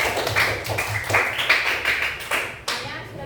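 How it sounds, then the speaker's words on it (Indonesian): Students in a Grade 4 classroom clap for group 4, a ragged run of quick handclaps with a few sharper taps standing out, close by and fairly loud, with no talk over it. "Kasih tepuk tangan untuk kelompok 4"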